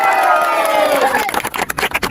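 A crowd cheers and whoops at a T20 Super Cup cricket award gathering for the Bahrampora team, voices rising loudly at first, then breaking into scattered claps and shouts as the cheering fades.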